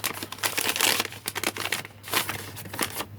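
Cheese wrappers and paper envelopes being handled and crinkled, giving a run of close, dry rustling crackles in uneven bursts with short pauses, no voices.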